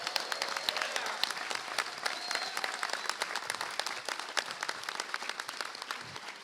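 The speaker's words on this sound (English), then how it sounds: "Let's give her a big round of applause." A large audience at a New York City celebration of a right-to-counsel law applauding steadily, dense clapping filling the whole stretch at a fairly even level, with no voices standing out.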